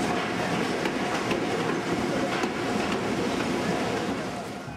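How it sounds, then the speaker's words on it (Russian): A small local train on a single-track line arriving at a station in Hakone, Japan, rumbles steadily close by, a broad continuous roar of wheels and carriages with faint rattling, fading slightly toward the end. "А вот и нам подают такой поезд."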